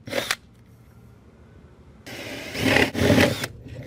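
A 1/4 inch paddle bit drilling holes for toggle bolts during flat tile installation, a short whirring burst followed by a longer grinding run after a quiet pause, close and moderately loud.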